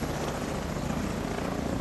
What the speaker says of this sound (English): And I am moving because of that very large helicopter right there.